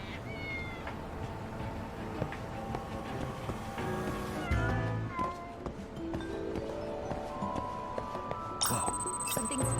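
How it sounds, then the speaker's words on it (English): Cat meows from the video game Lost Judgment, several plaintive calls scattered through a busy game soundscape with music and ambient effects, moderately loud and repeating at irregular intervals. "Cat somewhere."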